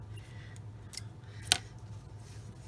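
Scissors snip through card during card making: one crisp, sharp cut in the middle, a fainter snip just before it, in an otherwise quiet room.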